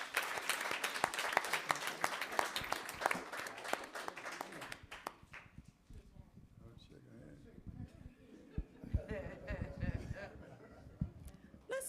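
Students called the Stella Stingrays from Fairfield Elementary School are applauded at a board meeting, with dense clapping for the first five seconds that thins into scattered claps and murmuring.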